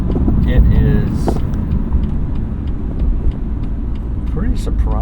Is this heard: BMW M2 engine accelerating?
yes